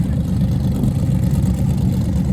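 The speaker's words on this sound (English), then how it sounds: "you can hear the engine revs of the G-Body Malibu" A deep, rumbling G-Body Chevrolet Malibu outlaw small tire drag car engine revs steadily and loudly throughout at a drag strip, with a dense low-pitched roar and no talking.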